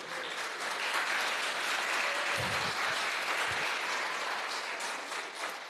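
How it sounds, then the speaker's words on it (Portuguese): Church congregation applauds during a sermon, a broad, even wash of many hands clapping that stays steady and fairly full, with a couple of low thumps near the middle. "Vamos dar uma salva de palmas para Jesus."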